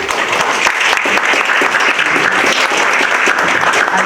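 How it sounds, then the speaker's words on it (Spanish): Loud, dense applause fills the room at an international forum on inequality, poverty and environmental crisis, with steady rapid clapping from many hands throughout. "Les pido un aplauso para él, por favor."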